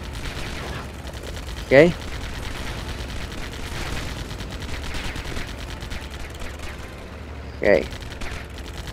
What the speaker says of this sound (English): Yeah, just shoot those turrets just to keep him immobilized.